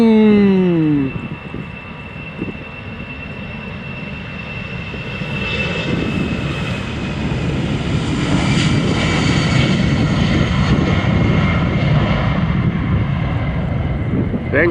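An EasyJet airliner departing Amsterdam Schiphol roars loudly and close, opening with a descending whine, then building into a broad, sustained engine rumble with wind buffeting that holds steady to the end.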